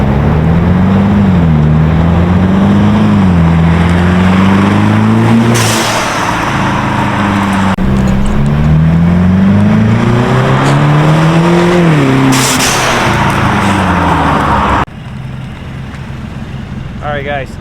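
A Mercedes E300 with its QTP exhaust cutout open roars past in loud drive-bys, its engine note rising and falling as it accelerates, with voices heard alongside.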